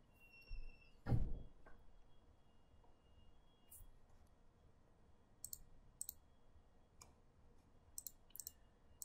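Mouse clicks during network video recorder setup: one louder thunk near the start, then scattered small sharp clicks, some in quick pairs, against a quiet room hum.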